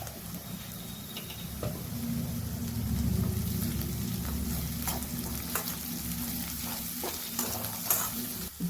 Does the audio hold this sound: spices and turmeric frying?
yes